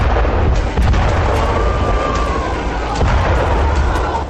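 Explosions and heavy blasts from a strike on a research centre in Masyaf, Hama province, Syria, heard as a continuous loud roar of rumbling booms and crackling bursts, recorded at a distance.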